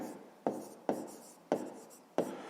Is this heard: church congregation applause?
no